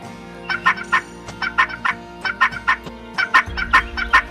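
Several turkeys gobble in quick repeated bursts, a steady run of loud, nearby rattling calls with a deeper rumble rising toward the end.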